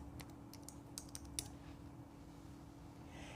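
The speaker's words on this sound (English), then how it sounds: "So we're gonna type in Keepsake Sweatshirt." Quick, quiet clicks of a computer keyboard as a project name is typed into a crafting program, a short burst of keystrokes followed by near-silence.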